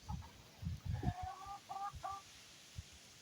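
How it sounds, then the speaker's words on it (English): Chickens cluck softly in short bursts nearby, with a few higher squawks mixed in against a quiet background. "chickens are wonderful."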